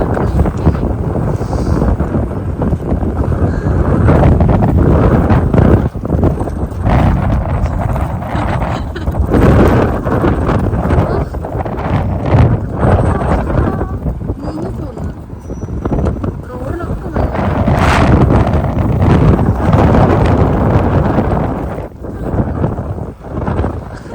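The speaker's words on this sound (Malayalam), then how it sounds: "കാറ്റടിക്കാൻ" Strong wind roars and buffets continuously during a snow storm in Canada, loud and gusting against the microphone.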